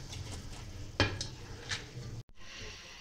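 Rice is dropped into boiling jaggery in a pot, producing a soft bubbling sizzle with a few light clinks and one sharper knock, close and quiet, briefly cutting out near the end.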